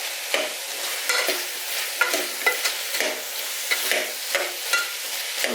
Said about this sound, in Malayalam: ഇനി ഇവരെ എല്ലാം കൂടെ നമുക്ക് നല്ലതായിട്ടൊന്ന് ഇളക്കിയെടുക്കാം.